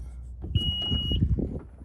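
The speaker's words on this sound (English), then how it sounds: "Here comes the loud beep." A 2020 Honda Passport Elite gives a single high, piercing beep lasting about half a second, sounding over low cabin rumble and faint movement.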